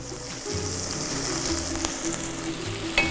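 Chorizo and shallots fry in a pan with a steady close sizzle and crackle, and a few soft stirring knocks are scattered across the clip.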